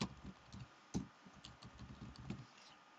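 Light clicks of typing on a computer keyboard in a quiet room, a steady run of soft keystrokes with one sharper key press near the middle, as if hitting enter.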